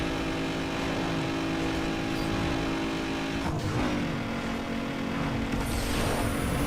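A racing car using nitro boost in Need for Speed Underground 2, with a loud, continuous engine roar and rising pitch as it accelerates, heard without talk.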